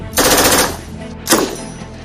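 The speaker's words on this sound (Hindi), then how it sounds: "जहां मीडियम मशीन गन पर बीएसएफ की फायरिंग की ट्रेनिंग चल रही थी" Medium machine gun firing at a BSF training range: two loud, rapid bursts of automatic fire, the first longer, separated by a brief pause.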